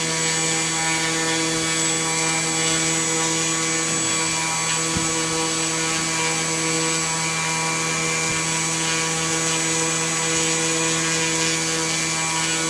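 A small SC15 Sport Cub RC airplane's electric motor runs steadily at half throttle, a constant whining drone with strong harmonic tones that holds unbroken throughout with no talking.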